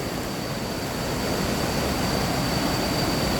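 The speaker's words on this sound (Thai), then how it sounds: "น้ำตกป่าบ่าครับ" Pa Ba waterfall in Thailand, swollen and forceful with rainwater, gives a steady, dense broadband roar that holds evenly throughout, close and loud, with no voices.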